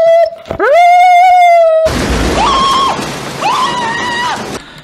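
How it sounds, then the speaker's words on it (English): A German Shepherd dog lets out a long, loud, wavering howl up close, then breaks into a series of rising and falling whines and cries in quick succession. "So yeah, whether it's barking or whining, they like to be vocal."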